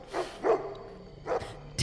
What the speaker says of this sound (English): The dog barks, and it startles Dima a bit.